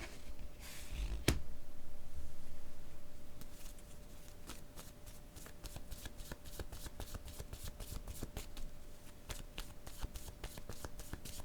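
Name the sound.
shuffling playing cards for a card reading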